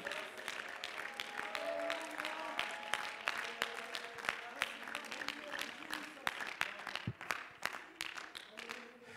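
A church congregation clapping and shouting during a service, dense quick handclaps throughout, fairly faint, under loud voices.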